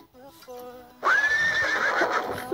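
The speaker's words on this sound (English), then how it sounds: "A flying horse. Oh wait, there goes another one." A horse in a video game lets out a loud, shrill whinny that rises and wavers for over a second, following a short stretch of tonal game music.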